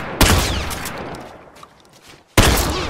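Turret gunfire in The Last of Us Remastered multiplayer on the Suburbs map, two loud sharp bursts about two seconds apart, each with a fading echoing tail.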